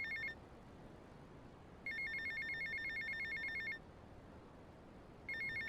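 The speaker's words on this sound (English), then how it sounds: "while this phone call's ringing" A telephone rings in Grand Theft Auto: Vice City, a quiet electronic trill repeating in bursts separated by pauses of nearly two seconds, heard alone without talk.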